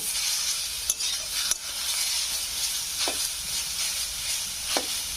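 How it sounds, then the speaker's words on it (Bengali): Grated papaya for halwa being stirred in a pan, with a continuous close sizzling hiss and a few distinct scraping strokes of the spoon spaced a second or two apart. "এবার এখানে আমি পেপারটা দিয়ে দেবো দিয়ে আমি নেড়ে চেড়ে নেবো এইভাবে"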